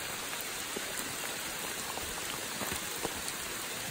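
Rain falls on the Appalachian Trail in the Smoky Mountains, a steady hiss of drops with scattered close taps and patters, fairly quiet, with no talking.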